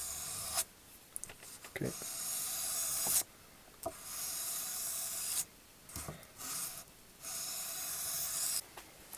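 A knife blade being sharpened on a 600 grit whetstone after a switch from 1000 grit, with steady broadband rasping strokes that stop and start in long passes, broken by short pauses and a brief spoken word.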